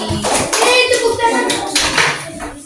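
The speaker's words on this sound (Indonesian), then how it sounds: "kita berikan tepuk tangan untuk Anissa" A school class claps for a classmate in short, uneven bursts of hand clapping, mixed with children's voices chattering close by.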